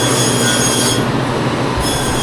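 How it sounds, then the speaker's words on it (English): A diamond cutting wheel grinding through jade in a water-cooled workshop in Antigua, Guatemala, a loud, steady high-pitched squeal and hiss that dips briefly midway before resuming. "This was the diamond wheel."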